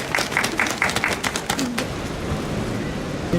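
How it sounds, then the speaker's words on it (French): Brief burst of scattered clapping from a small group, fading after about two seconds into a steady background noise. "Et on peut les applaudir."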